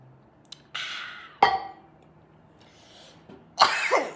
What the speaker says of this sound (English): I have to figure out how to do that without coughing.